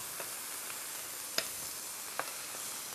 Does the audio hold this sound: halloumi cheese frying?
yes